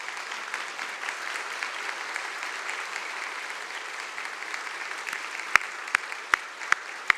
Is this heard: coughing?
no